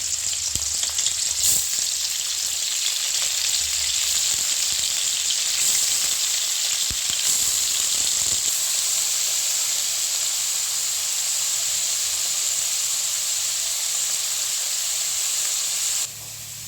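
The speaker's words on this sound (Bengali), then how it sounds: "তেলটি গরম হলে এতে পনিরগুলি ভেজে নেব।" Paneer pieces fry in hot oil in a wok, giving a loud, steady sizzle and hiss that runs continuously, with a few brief clinks and stirring knocks, then drops off slightly near the end.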